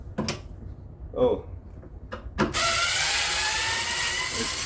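Wood screws being backed out of a pinball machine, with a few short ratcheting clicks of a hand tool, then a steady loud whirring of a power driver, close and over background noise.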